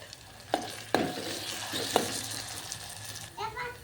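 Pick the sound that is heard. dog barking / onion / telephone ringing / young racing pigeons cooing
onion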